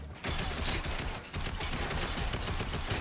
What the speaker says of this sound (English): I'm trying to shoot him out for you.